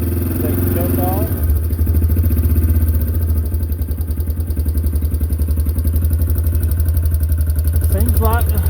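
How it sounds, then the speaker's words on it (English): A 2009 Yamaha Big Bear 400 ATV engine idles steadily with a fresh carburetor, starting after a brief pause and then running as a close, continuous mid-pitched putter, with a voice speaking briefly near the start and end. "Seems like the idle is about right."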